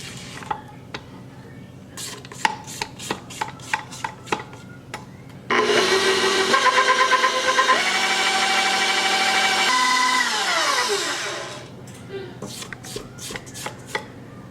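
Electric mixer beating butter into cookie dough, a loud steady whirring hum with its pitch dropping partway through, set between scattered tapping and scraping sounds in the bowl.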